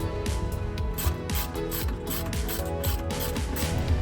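A ratchet tightening the bolt on an RV battery cable terminal, a rapid run of close, crisp clicks over about four seconds.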